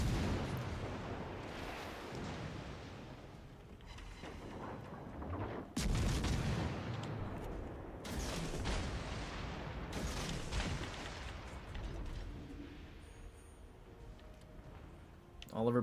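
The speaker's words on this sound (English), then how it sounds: "I'm getting shot and I'm not even spotted." Artillery shells strike a ship in World of Warships: Legends, producing repeated heavy booms every few seconds over a constant low sea-and-engine rumble, with a voice talking faintly underneath.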